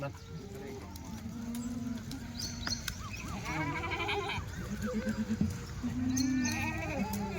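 Kathiawadi goats in a tin-roofed shed on a farm bleat repeatedly, several animals calling near and far over a low murmur of shed noise.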